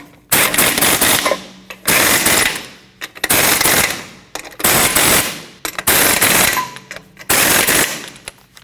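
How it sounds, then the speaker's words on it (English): An impact wrench drives the lug nuts onto a rear wheel of a 2012-2021 Nissan NV2500 van, firing loud, close rattling bursts about a second long, five in a row with short pauses between. "Now you can tighten down all your lug nuts."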